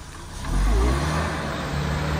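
A Suzuki Jimny fitted with a plough at the back runs off-road, its engine swelling into a loud, steady low rumble after a brief quieter start and then holding that level.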